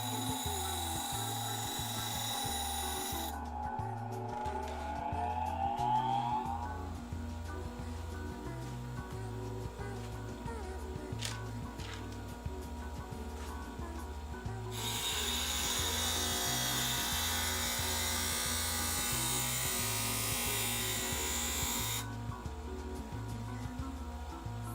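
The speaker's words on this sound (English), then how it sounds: "I'm gonna sharpen this tungsten just because it's driving me crazy." A tungsten welding electrode is sharpened under a constant mechanical hum, with two long stretches of loud rasping grinding separated by a quieter gap.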